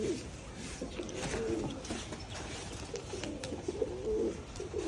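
Pigeons in Dhaka coo in repeated soft, throaty phrases over a low background hum, several calls overlapping at close to middle distance.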